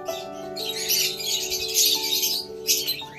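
A crowd of caged Fisher's and opaline lovebirds offered for sale chirps and tweets continuously, with loud, dense, high-pitched calls rising and falling close by, and no talking.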